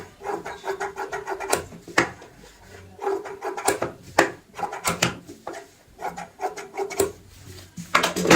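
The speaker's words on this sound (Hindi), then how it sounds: "बाहर की साइड वाला जो एक्स्ट्रा कपड़ा होता है हल्का हल्का छोड़ते हुए ऐसे कटिंग कर लेते हैं" Scissors snip and rub through extra fabric around an old bucket being made into a stool, in irregular close cuts and scrapes with short pauses between them and no talking.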